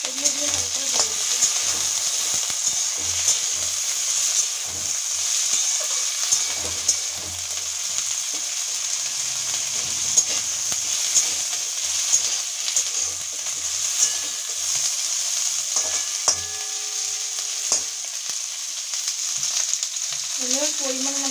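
Sea fish frying with green chillies in hot oil, a loud, continuous crackling sizzle with occasional stirring clatter, and a voice briefly heard near the end.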